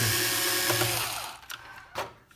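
Compressed air blasts through the inside of an Altek PowerEdge AL 600 portable power station under repair, a loud close hiss that fades and ends in a few short puffs.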